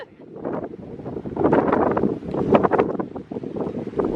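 Strong wind buffets the microphone outdoors, with loud, irregular rumbling gusts that surge and ease over a few seconds, with no voices.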